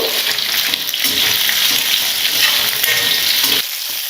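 Green chillies with salt fry in hot oil for a village-style chilli thokku, giving a loud, continuous close-up sizzle with faint stirring beneath and no talk.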